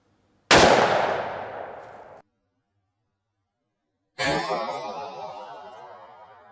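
A Winchester 94 .357 Magnum rifle fires Remington 125-grain jacketed soft point rounds: two loud, sharp shots a few seconds apart, each ringing out with a long echoing decay, with no talk between them.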